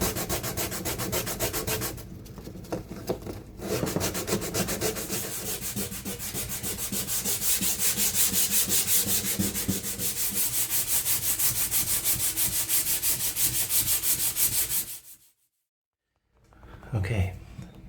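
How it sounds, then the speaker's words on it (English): Raw core on a catamaran being sanded by hand, a steady dense scratchy rubbing that runs close and loud for most of the clip, with brief pauses near the start and a short silent gap near the end. "Everything's sanded back, expose that nice substrate there."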